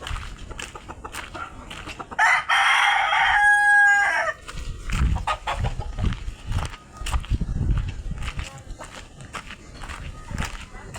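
Roosters at a cockfight crowing loudly nearby, one long crow standing out amid clucks, shuffling footsteps and people talking throughout.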